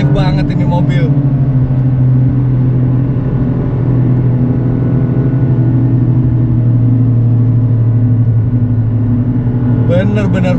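A Toyota GR Yaris lapping the Mandalika circuit holds a loud, steady engine drone throughout, with someone talking briefly at the start and again at the end.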